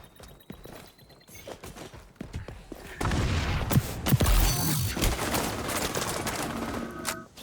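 Marksman rifle fire in the game XDefiant crackles in sharp repeated shots, sparse and thin at first, then a denser, louder barrage of gunfire with impacts and game effects layered over it.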